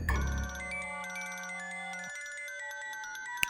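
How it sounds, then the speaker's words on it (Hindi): Phone ringtone playing a short melodic electronic tune, clear and alone for a few seconds before fading out. "ए, तेरा फोन रिंग हो रहा है।"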